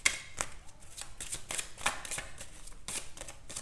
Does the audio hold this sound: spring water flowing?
no